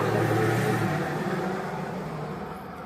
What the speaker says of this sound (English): you'll hear some cars go by